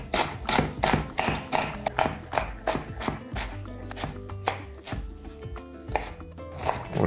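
Knife chopping Napa cabbage leaves into strips on a board, a steady run of crisp, close, rhythmic cuts with a few brief pauses and no talking.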